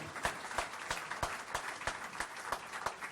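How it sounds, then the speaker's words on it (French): Scattered applause from a small audience at a French panel discussion on changing consumption in the boating industry, individual claps standing out in a sparse, steady rhythm for about three seconds, fairly faint and distant. "on peut les applaudir en effet"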